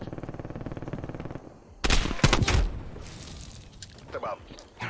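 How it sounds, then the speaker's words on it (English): Sentry turret machine-gun fire in Black Ops Cold War on the Apocalypse map: a loud burst of rapid shots with crashing impacts, followed by scattered bangs over continuous game noise, with a voice speaking. "Hostile sentry turret active."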